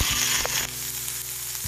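Tomato, chopped onion, garlic, ginger and green chilies hitting hot oil in a pan with cardamom, a brief loud sizzle that settles into a steady close frying hiss.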